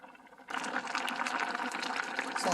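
Cheonggukjang stew with radish greens and tofu boiling in a pot: a steady, close bubbling and gurgling that begins abruptly after a brief quiet moment and keeps a busy, even texture to the end.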